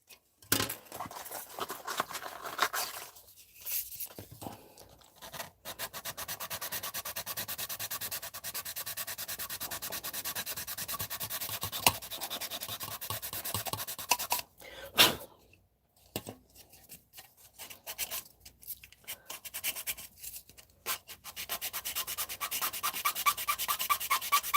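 Steady rasping of sandpaper rubbing against a small hard resin part for a 1970 Chevelle model transkit, long continuous strokes with brief pauses, close and fairly quiet.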